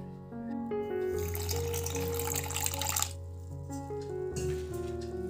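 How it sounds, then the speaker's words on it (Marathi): Water streams steadily into a mixer jar of rava uttapam batter for a few seconds, a bright splashing pour that stops and briefly resumes, with no talking. "याच्यामध्येच मी आता पाणी टाकणार आहे थोडं"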